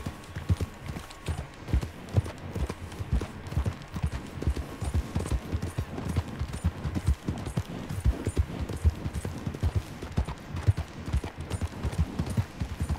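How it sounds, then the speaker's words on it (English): Horse hooves in the video game Red Dead Redemption 2 clop at a steady trot, close and fairly loud, a regular rhythmic beat that continues throughout without talking. "I should have called this horse Flares."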